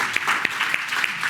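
An audience at a tribute gathering claps steadily in a dense, continuous burst of applause, close and fairly loud, with no talk over it.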